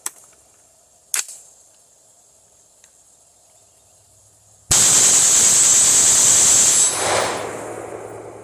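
Rifle fitted with a forced reset trigger and carbon buffer, a couple of isolated sharp cracks, then a loud unbroken roar of rapid fire for about two seconds emptying a full magazine, followed by a fading ring outdoors.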